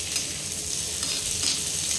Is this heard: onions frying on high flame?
yes